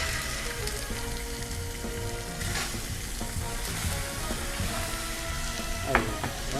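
Shrimp sizzling in hot olive oil in a pan, shown as a steady, dense crackle that holds evenly throughout the clip, with one brief sharper clink near the end.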